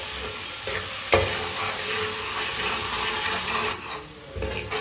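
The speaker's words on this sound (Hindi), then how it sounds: "2 मिनट के लिए पका लेंगे लहसुन को, लहसुन का भी कच्चापन खत्म हो जाएगा।" Crushed garlic frying in a pan, a steady close sizzle with occasional scraping as it is stirred, continuous and fairly loud with no talk.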